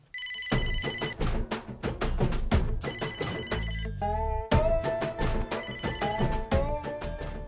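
A telephone rings with a loud, music-like ringtone of rhythmic beats and melodic tones that plays continuously for several seconds in a comedy scene, with no one speaking over it.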